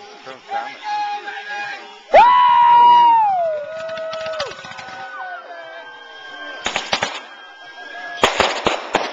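Fireworks go off over Highland Lake: a rising whistle is followed by crackling, then sharp double bangs and crackling bursts near the end. People talk nearby throughout.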